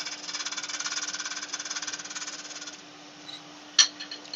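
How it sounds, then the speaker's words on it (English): Skew chisel cutting a mulberry bowl spinning on a wood lathe, a rapid rhythmic chattering rasp for a few seconds that stops, then a single sharp knock. "Proper use for a skew chisel."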